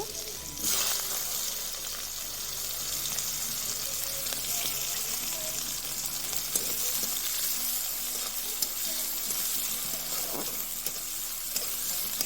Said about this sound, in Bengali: পেঁয়াজগুলো ভাজা ভাজা করে নেব।